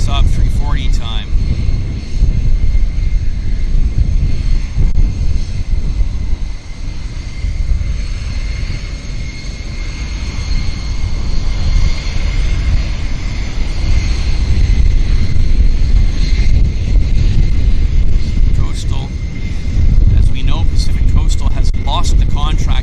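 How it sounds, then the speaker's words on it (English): A Saab 340 turboprop at Vancouver airport gives off a sustained, loud engine drone with a rumbling low end that dips briefly midway and then builds again, while people talk over it. "Saab 340 time"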